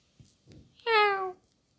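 A cat meows in a video game, one clear, drawn-out call about half a second long, preceded by faint soft rustles and ticks.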